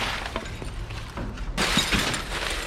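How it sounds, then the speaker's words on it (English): Glass shatters inside a scrapped household item being broken apart, a sharp burst of breaking and tinkling shards after muffled handling knocks, close and loud. "That's glass. That ain't metal, that's glass."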